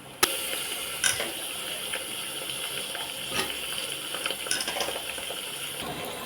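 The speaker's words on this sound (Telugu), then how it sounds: "ఇప్పుడు నత్తలు కడిగి పెట్టుకున్న నత్తలు అయితే మనం ఇందులోకి వేసేసుకుందాం." Washed snails tipped into a pan of cooked onions, frying with a steady sizzle and the scrape and clatter of stirring, plus a sharp clink at the start and a few more knocks throughout.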